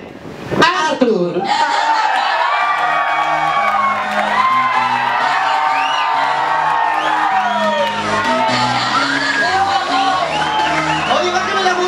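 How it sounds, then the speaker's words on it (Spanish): A studio audience on the game show El Juego de la Botota cheers, whoops and shouts to welcome the winner, loud and continuous over steady background music for the whole stretch. "Fuerte el aplauso para recibir en el juego de la botota al ganador de Mundo Opuesto"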